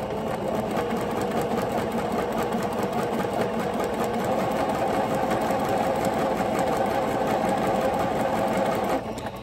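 A sewing machine stitches ruffle tutu socks in one steady, close, continuous run of rapid whirring that drops off just before the end.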